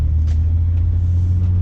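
A car's steady low engine rumble and road drone fill the cabin as it rolls into a Walmart parking lot, loud and continuous with a few faint thumps.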